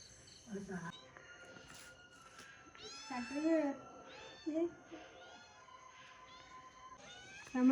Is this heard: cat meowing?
yes